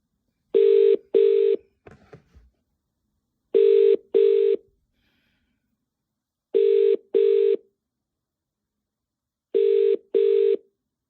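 A phone line rings with an incoming call to a live call-in show: four clean double-ring bursts spaced a couple of seconds apart, sounding clearly against near silence, with a brief rustle after the first.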